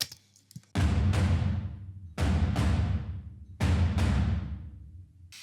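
Three heavy crashing percussive hits, each a loud smash that rings out and decays, spaced about a second and a half apart.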